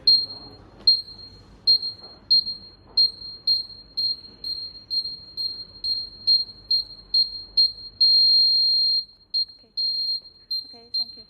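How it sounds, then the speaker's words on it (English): A LUVIEW JY-PT08 ultrasonic parking sensor buzzer gives a rapid series of short, high electronic beeps repeating steadily, with one longer sustained tone partway through, and people talking faintly at the start. "And now we will test the buzzer to you."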